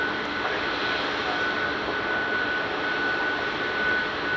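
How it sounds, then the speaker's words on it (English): United Airlines jet taxiing at Chicago O'Hare from a Pittsburgh flight, a steady loud engine whine and roar holding level throughout with no talk over it. "And this is United Airlines Flight 2248 from Pittsburgh. This one might actually be taxiing to the gate."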